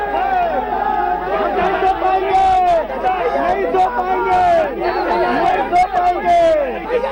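A crowd of political party workers shouts slogans together outside at night, a dense, continuous mass of overlapping voices that stays loud throughout with rising surges.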